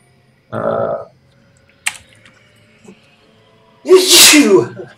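A single loud, close sneeze bursts out near the end, after a brief vocal sound and a sharp click earlier, with quiet stretches between.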